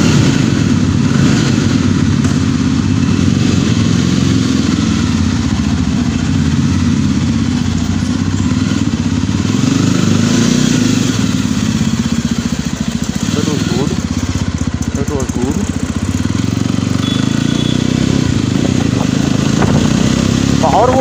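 A Yezdi Roadster motorcycle engine pulls hard on a test ride, a loud, sustained low rumble with shifting pitch and wind rush, while a rider talks over it.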